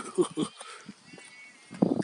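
Sheep bleat from across a street, a few wavering calls at moderate distance, mixed with nearby talking.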